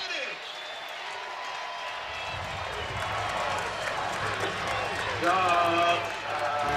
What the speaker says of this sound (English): Now this overflow crowd is going to make some noise here on 3rd and 5.